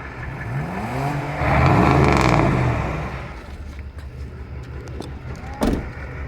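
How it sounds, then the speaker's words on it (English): A 1997 Ford truck moving nearby, its engine rising in a swelling rev with climbing tones before settling into a lower rumble, followed by a short sharp knock near the end. "Ford truck moving"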